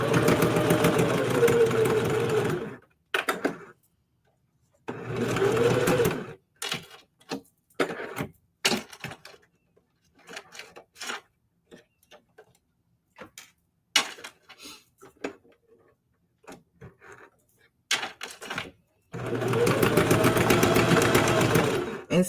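A Singer HD sewing machine back stitches fabric tabs on scrap-fabric letters in two short runs at the start and a longer one at the end, loud and close, with clicks and handling noises in the gaps between.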